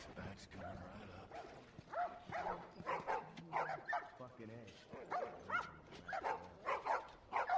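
Dogs bark and yip repeatedly in The Last of Us video game, the bursts coming in quick uneven clusters close by, mixed in with characters talking.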